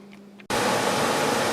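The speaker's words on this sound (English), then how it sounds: "wait for the air conditioner to start up" A household air conditioner cuts in abruptly after a faint hum, then runs as a loud, steady, broadband rush of fan air, close and continuous with no talk.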